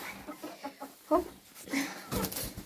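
A rooster among farm animals gives a run of short throaty clucks and calls, close and moderately loud, in uneven bursts.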